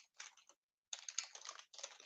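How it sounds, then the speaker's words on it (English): Quick bursts of keystrokes on a computer keyboard, typing text into Notepad, break off into a short silence and then resume in two more close, crisp runs. "So I'm just typing here notepad"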